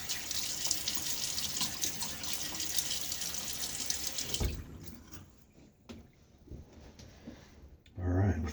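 A bathroom tap runs steadily into a sink as water is splashed on the face before a wet shave, a close, continuous gush for several seconds, then stopping, with small drips and splashes and a brief rustle after.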